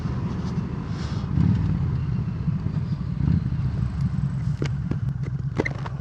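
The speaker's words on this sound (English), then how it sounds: "That's another motorcyclist on his motorcycle." A motorcycle rides past on a seafront road, a rough engine rumble that swells and fades over a few seconds, heard from nearby among traffic and other street noise.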